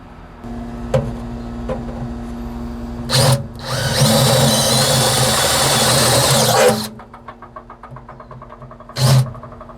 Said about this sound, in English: we'll get the holes drilled and we'll be right back